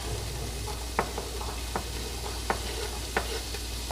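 Chopped celery sautéing with onions in a pan for venison spaghetti sauce, a steady low sizzle with a handful of sharp stirring scrapes spaced about a second apart, no speech.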